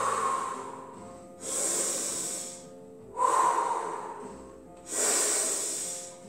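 Slow breathing in and out during a Pilates strengthening exercise, close and clear, with alternating long inhales and hissing exhales in a steady rhythm, about three to four breaths with no speech.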